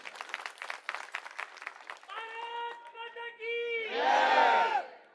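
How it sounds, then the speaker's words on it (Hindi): A crowd at an AAP political rally in Burari, Delhi, claps briskly for about two seconds for party workers, then breaks into loud sustained chanting and cheering that swells toward the end. "सबसे पहले हमारे कार्यकर्ताओं के लिए एक बार जोरदार तालियां आप लोग बजा दीजिए"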